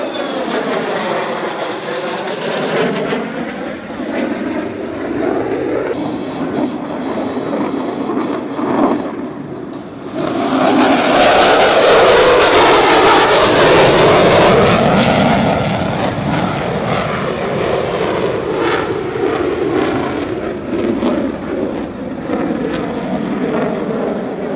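Military jets roar overhead at the Defenders of Freedom 2026 air show above Greater Omaha, a loud sustained engine rumble that swells into a powerful close pass midway before easing back into a steady drone.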